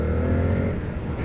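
A 2023 Indian FTR 1200 S motorcycle engine pulls steadily under gentle throttle, a close, even droning hum that swells slightly in a short burst at the very end, with no talking.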